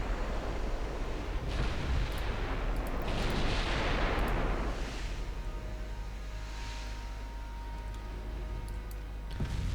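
Heavy naval gunfire in the video game Ultimate Admiral Dreadnoughts, a continuous booming rumble of cannon blasts aimed at an enemy ship, dense and sustained with sea-like roar underneath and small ticking clicks on top.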